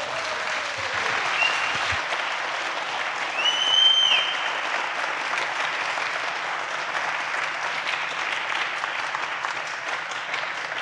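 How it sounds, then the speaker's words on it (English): A large audience at the MCH 2022 hacker camp gives loud, sustained applause for the infrastructure team, a dense steady wash of clapping that swells briefly partway through and keeps going to the end, with no speech over it. "please give a very, very, very loud applause to the MCH"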